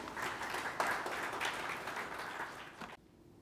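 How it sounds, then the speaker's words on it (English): An audience claps steadily for about three seconds, fairly distant and even, then the applause cuts off abruptly into near silence. "May I have a round of applause for him?"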